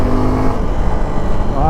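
A Suzuki V-Strom SX 250 motorcycle engine drones loudly and rises toward 7000 RPM, a rough continuous roar up close with a rider talking over it.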